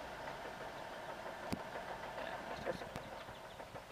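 A 2007 Saturn Ion idling with the air conditioning fan running, a steady low engine hum and fan whoosh with a few faint clicks and ticks, heard close and continuous.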